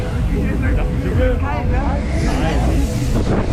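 Wind rushes loudly over the microphone on the Excalibur fairground ride at the Münster spring Send, a constant buffeting roar with voices talking over it.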